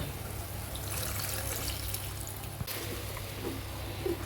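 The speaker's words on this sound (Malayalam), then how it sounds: "അപ്പോൾ അതേ പുളിവെള്ളം ഒഴിക്കുകയാണ് കേട്ടോ നമ്മൾ" Tamarind water poured into a pot of boiling crab curry, a faint steady trickle and splash over a low background hiss, quiet and brief with no talk.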